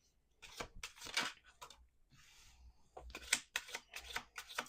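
Tarot cards are shuffled close up in quiet, several short riffling bursts of crisp card flicks separated by brief pauses, with no voices.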